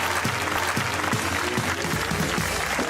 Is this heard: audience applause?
yes